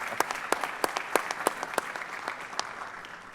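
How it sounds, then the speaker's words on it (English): Applause for Lea, a woman who served in Arizona statewide office, at a town hall gathering: a steady smattering of clapping from a modest crowd, with sharper individual claps standing out through the whole stretch. "I think that deserves a round of applause"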